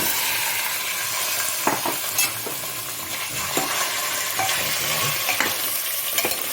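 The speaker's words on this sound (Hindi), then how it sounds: "अब हम इसको मीडियम फ्लेम पे रखेंगे और हम सबसे पहले मटन ऐड करेंगे।" Mutton pieces frying in hot oil over a medium flame for Kashmiri roganjosh, a loud continuous sizzle broken by repeated scraping stirs of a spoon against the pan.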